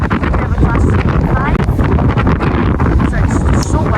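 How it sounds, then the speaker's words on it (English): Strong wind at a West Coast Main Line railway station in Carluke, a loud steady roar buffeting the microphone without letup, with a voice faintly audible under the gusts. "So it's so windy."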